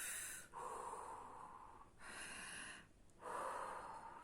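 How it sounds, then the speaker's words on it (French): Three slow, deep breaths drawn close to the microphone, each a soft airy rush in and out with short pauses between, quiet and unaccompanied by talk. "on respire"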